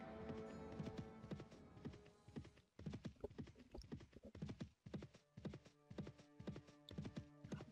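Rohan riders galloping on horseback in a Third Age battle video game, a dense rhythmic thunder of hooves with clip-clop beats and an occasional whinny, loud and continuous.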